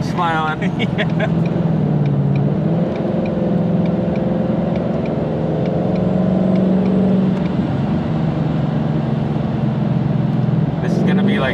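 An 850-horsepower Ford Mustang runs on a dyno, its loud, steady engine drone with some rising tones running continuously beneath people talking nearby.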